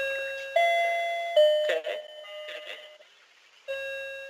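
An indoor doorbell chimes repeatedly in clear ringing tones. Several rings follow one another, with a brief spoken word and some rustling between them.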